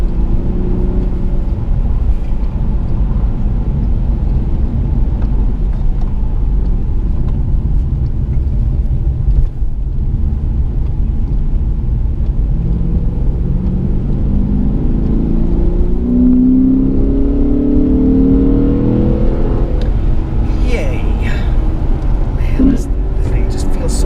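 Lexus RC F driving downhill on wet roads in the rain in Little Cottonwood Canyon: a steady, close engine rumble with road hiss and a rising rev toward the end, while a person talks over it.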